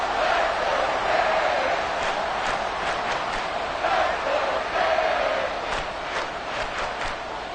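A stadium crowd at a football game roars steadily throughout, a dense wash of distant voices and cheering with a few brief rises, with no clear single voice above it.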